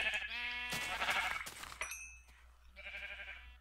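Sheep in a Minecraft-style video game bleat in short harmonic cries, one near the start, another around the middle, and a final bleat near the end, with brief clinking game effects between them.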